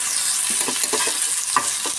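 Onion fries in a pan for a cheese sandwich while a spoon stirs it, giving rhythmic scraping strokes over a close, loud sizzle, with no voices.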